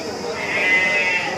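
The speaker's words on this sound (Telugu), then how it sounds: "సంతలో గొర్రెలు అయితే ఉన్నాయండి." At the weekly sheep and goat market in Angallu, a sheep gives one drawn-out bleat close by, rising above a busy background of market noise.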